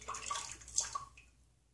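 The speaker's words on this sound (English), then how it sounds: "Start to rinse your face" Water splashing in quick, close, soft bursts as a face is rinsed after a shave with a vintage Williams shave stick and Personna blades, a few splashes and drips fading out quietly.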